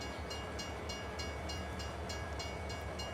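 A train in the video game Farming Simulator 22 rolls along, a steady low rumble with faint rhythmic clicks repeating about every third of a second.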